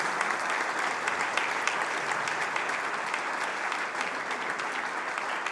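A church congregation applauds in praise, a dense, continuous roar of clapping that holds at an even, loud level from start to finish.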